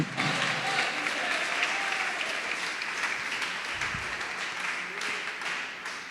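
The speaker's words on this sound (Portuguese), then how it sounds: "Pode aplaudir e dizer: meu Deus é grande" A church congregation applauds steadily during a sermon, a dense, sustained wash of clapping from many hands that holds at an even level for several seconds.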